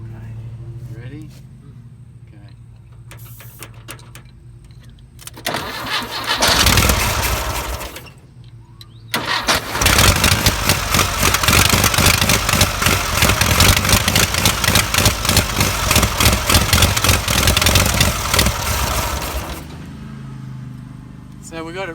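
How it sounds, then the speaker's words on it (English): Starter motor cranks an old off-road buggy engine, sprayed with starting fluid, which catches and runs roughly in a loud, sustained burst before cutting out; voices talk around it. "We'll get the starter motor rolling as well."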